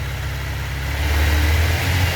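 A 1996 Suzuki GSX-R 750 motorcycle engine settles into a steady idle after its idle adjuster was turned down, a low, even rumble that holds constant throughout with no voices.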